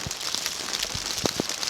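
Raindrops falling during a rainy hike at the summer solstice as the rainy season begins: a soft, steady patter with scattered close, distinct drop taps, quiet and with no talking.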